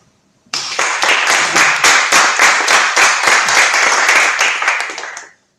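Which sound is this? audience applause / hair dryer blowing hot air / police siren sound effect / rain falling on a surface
audience applause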